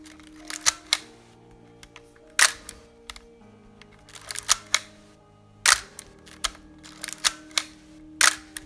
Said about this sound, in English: the shutter mechanism seems nicer